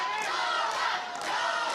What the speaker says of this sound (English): She's got the cheering section going on.